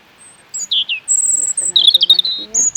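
Small birds near a nest give a quick series of bright, high chirps and tweets, close and clear, in short bursts over a few seconds.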